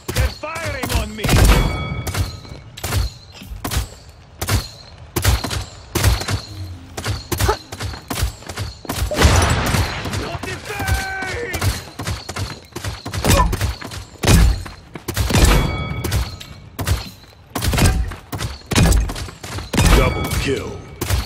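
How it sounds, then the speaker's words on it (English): Rapid weapon fire in the online shooter Paladins, in a training shooting range: dense bursts of sharp shots and thuds, loud and near, repeating in quick clusters with brief pauses. "They're firing on me."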